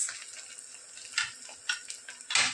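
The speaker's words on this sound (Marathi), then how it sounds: "आलं लसूण आणि कांदा छान परतले गेले" Ginger, garlic and onion sautéing in ghee make a steady close sizzle, punctuated by a few short scraping stirs of a spatula, no talk.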